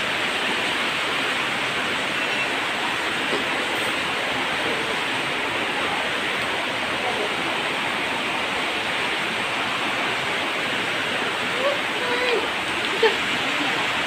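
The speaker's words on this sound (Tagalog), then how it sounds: "Grabe ko kusog sa tubig." Fast floodwater rushes in a steady, broadband roar that never lets up, loud and close, with the level rising slightly near the end.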